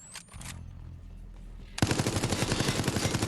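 Rapid automatic gunfire from the video game Resident Evil Resistance bursts in loud and close after a quieter stretch, a fast steady rattle of shots continuing to the end.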